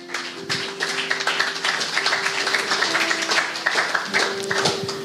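A church congregation applauding: a burst of clapping with uneven, overlapping hand claps, steady for several seconds over a low sustained tone.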